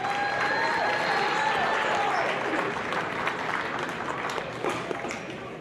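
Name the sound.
crowd applause at a basketball game's senior night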